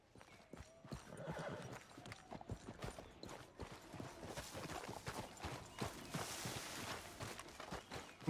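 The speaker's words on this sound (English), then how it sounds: "Cavalo." Horse hooves walking in Red Dead Redemption 2, a quiet run of irregular clopping steps on the ground with faint creaks and movement sounds around them.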